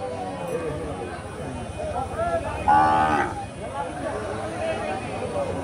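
A heifer calf at a busy cattle market lets out a short moo in the middle, heard among crowd chatter and nearby talking voices.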